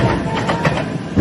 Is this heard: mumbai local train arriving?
yes